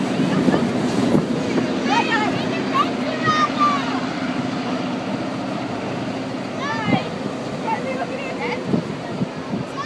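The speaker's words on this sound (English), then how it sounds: "Do you see how long is the train?" A train rumbles past with rhythmic clacking of wheels on rails, while people talk and call out over the steady rolling noise.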